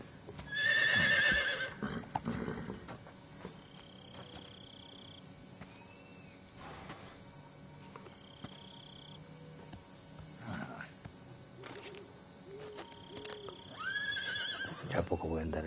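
A horse neighs loudly near the start in the video game Metal Gear Solid 3, followed by quieter game effects, sparse tones and hoof-like sounds, with people talking over parts of it.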